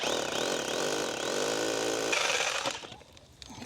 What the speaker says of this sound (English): I know for a fact I need to drill one right there